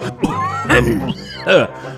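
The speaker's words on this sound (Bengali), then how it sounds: "বাবা কাশতে কাশতে এবার মনে হচ্ছে নাড়ি ভুড়ি সব একেবারে মুখ দিয়ে বেরিয়ে আসবে" A man coughs and clears his throat in short, harsh bursts between strained, groaning vocal sounds, loud and close.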